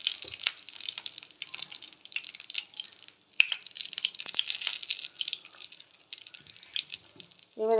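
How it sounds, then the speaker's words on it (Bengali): Wet, rinsed flattened rice with curry leaves sputters and crackles in a hot pan, a dense continuous sizzle with sharp pops throughout, fairly close and with no talk. "বাবা জল ছিল, ধুয়ে নিয়েছি তো, সেই জন্য এত পুটুর পুটুর করছে।"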